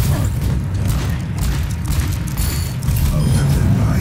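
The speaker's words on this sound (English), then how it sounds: "Dr. Junkenstein lobbed his bombs at the castle. The explosions are percussive accompaniment to the sound of his laughter." Bombs explode against a castle in Overwatch's Junkenstein's Revenge game mode, a deep booming rumble that stays loud and heavy throughout, with faint higher clatter above it.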